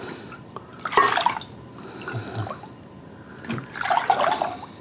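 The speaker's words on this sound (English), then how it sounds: "So we want 2 cups of water in just a small pot" Water is poured into a small pot in a kitchen in short splashing bursts, with pauses between pours and no speech.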